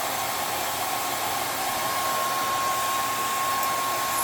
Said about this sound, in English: Just a regular hair dryer will help it out quite a bit.